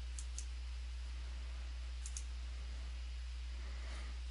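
A few soft computer mouse clicks, two near the start and two around two seconds in, sit over a steady low hum with no talk.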